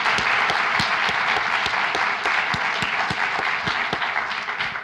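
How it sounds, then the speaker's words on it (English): An audience at a Women in Science Symposium gives a big round of applause, with dense, even clapping close by that holds steady for several seconds before easing slightly at the end. "let's give them a big round of applause,"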